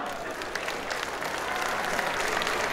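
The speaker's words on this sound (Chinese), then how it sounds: "所以给各位自己一个掌声好吗？" A seated audience at a Kuala Lumpur cultural and sports association's fifteenth anniversary opening ceremony claps together in even, continuous applause, a thick wash of many hands lasting the whole stretch with faint crowd murmur beneath.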